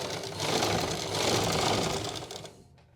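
A sewing machine stitches fabric during a home sewing practice lesson, a close, loud, steady motor whir with rapid needle clatter for about two and a half seconds before it slows and stops.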